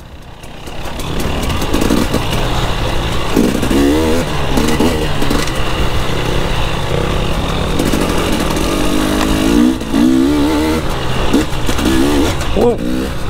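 An enduro dirt bike's engine revs hard and close on a trail, rising and falling over about 13 seconds with a few throttle blips. The engine note is loud and continuous.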